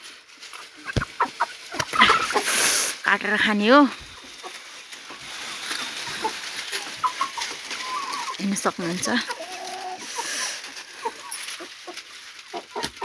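Chickens cluck and a red rooster calls nearby while a person talks over the farmyard noise, with scattered clucks continuing throughout.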